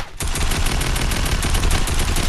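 Rapid automatic gunfire in a prop hunt video game comes as a dense, loud, sustained burst of shots in quick succession after a brief pause.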